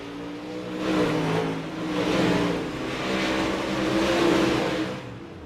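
A modified race car rolls back toward pit road at the Eldora dirt track. Its engine drones steadily, swelling and easing in waves, at moderate distance with no voices.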